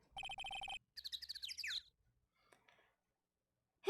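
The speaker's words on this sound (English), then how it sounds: "Hey, it's a public phone." A public phone ringing in the Ace Attorney: Trials & Tribulations video game: a quick run of electronic trill rings lasting under a second, followed by other chirpy game sound effects and a few faint blips.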